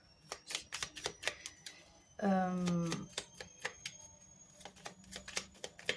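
Tarot cards handled and laid over another card make a quick run of crisp flicks and taps, close by, with a short voiced sound in the middle.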